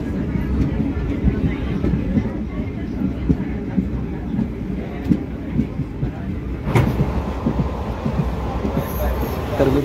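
Passenger train rolling along the railway line near Sangola, Maharashtra, heard from on board as a steady, close low rumble of wheels and carriages with faint rattling, continuous throughout with a brief louder swell of track noise midway.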